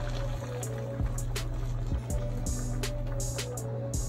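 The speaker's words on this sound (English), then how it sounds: "So now I'll just add some water." Water is poured into a pot of browned Jamaican brown stew chicken, a steady close splashing and sizzling pour with small bubbling pops over a low kitchen hum.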